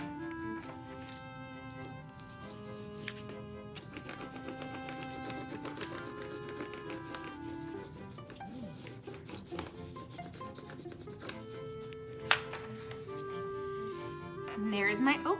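A blue crayon rubbed over an oak leaf on paper makes soft, scratchy back-and-forth scraping, quiet and close, while a person talks throughout.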